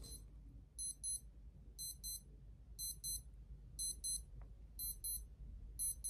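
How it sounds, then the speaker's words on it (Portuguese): A broken clock beeping over and over in steady paired bursts of high electronic tones, repeating roughly every second, fairly faint against a low background hum with no talking. "O relógio tá apitando e aí ele quebrou, né?"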